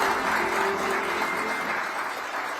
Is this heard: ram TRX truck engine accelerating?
no